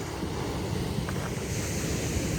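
Atlantic Ocean surf rolls in as a steady, broad wash of waves mixed with wind buffeting the microphone, continuous and moderately loud without speech.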